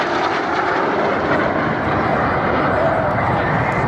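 Three Folland Gnat jets fly past at an air display, a loud, continuous roar of jet engines that holds steady throughout, with a voice faintly under it.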